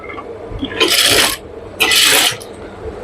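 Sewing machine stitching poplin fabric in two short whirring bursts, each about half a second, separated by a pause with quiet mechanical clicks around them, heard close up with no voices.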